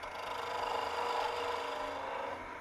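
A 3/8 spindle gouge rounds over the end of a wooden tailstock handle turning on a mini or midi lathe, giving a steady close-up rasping, scraping cut that holds for a few seconds with no talk.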